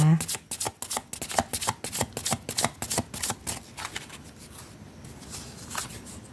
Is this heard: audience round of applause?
no